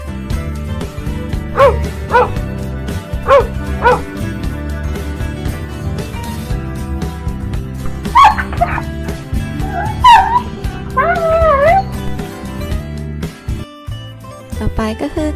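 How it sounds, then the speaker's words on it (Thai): A pet dog yips and barks a few times, then whimpers in high, wavering whines, heard over steady background music. "มาฟังเสียงของสุนัขกกันนะคะ"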